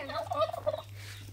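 A turkey gobbles once close by, a loud rapid warbling burst lasting under a second over a low steady hum.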